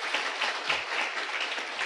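An audience claps in a brief burst of dense applause, a close crackling patter of many hands that lasts under two seconds.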